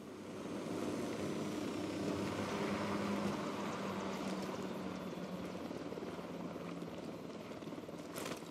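Aircraft engine and rotor drone from the Ghost Recon Wildlands video game, steady and fairly loud while the craft comes down onto a football field, a continuous broadband roar that holds for the whole stretch with no talk over it.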